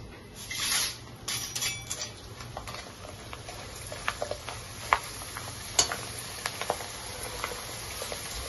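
Corn poha deep-frying in oil crackles and sizzles quietly, with scattered sharp pops and ticks over a low steady frying hiss.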